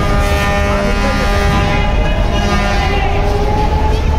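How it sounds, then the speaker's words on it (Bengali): Prince Awlad 10, a passenger launch departing Barisal, heard as a loud continuous engine drone with a tonal horn-like hum and crowd murmur mixed in throughout. "যাত্রা করতে যাচ্ছে বরিশাল থেকে প্রিন্স আওলাদ দশ লঞ্চ"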